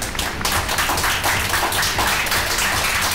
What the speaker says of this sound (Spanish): Denle un fuerte aplauso al Señor mientras.